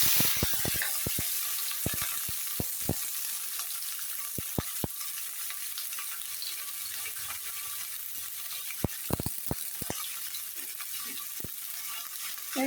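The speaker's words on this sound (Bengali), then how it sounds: "এখন এই তেলের উপরে দিয়ে দিব আগে থেকে যে শিম আর আলু এগুলা।" Beans and potatoes fry in hot oil in a wok, giving a constant soft sizzle broken by sharp clicks and scrapes of stirring, scattered irregularly at close range.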